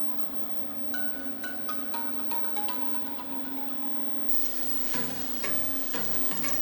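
Thai turkey meatballs sizzle and fry steadily in a hot pan, a constant dense crackle with occasional stirring and clinks, with no talking over it.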